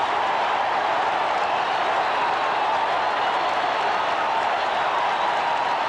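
A loud, steady roar from a packed football stadium crowd in Buffalo during a 1983 Raiders–Bills game, a dense wall of cheering and applause that holds constant throughout with no break.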